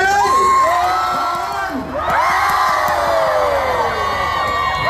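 A large crowd at a Palang Pracharath Party political rally in Thailand cheers and shouts loudly and continuously, with whoops and voices rising and falling in a dense roar.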